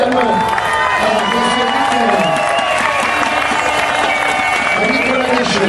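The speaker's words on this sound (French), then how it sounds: "Vos acclamations." Spectators at a 2010 WRC Rallye France event cheer and clap for a rally crew, a steady crowd roar with shouts and a voice over a loudspeaker running throughout.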